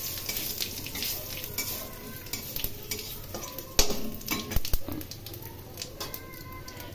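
White and black cumin, dry red chillies and bay leaves fry in hot oil, making a continuous close sizzle with occasional clinks and scrapes of a utensil against the pan.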